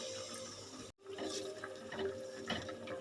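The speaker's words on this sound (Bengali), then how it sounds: "এই যে মিক্সির বাটিটা ধুয়ে জল দিয়ে দিলাম" Rinse water from a blender jar of poppy seed gravy poured into a hot pan, a continuous splashing, hissing wash of liquid after a short silent gap, moderately quiet with no voices.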